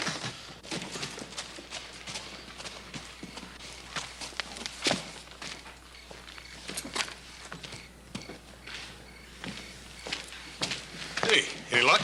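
Horse hooves clip-clop on the ground in a Western ranch scene, a loose run of scattered near knocks that continue under people talking.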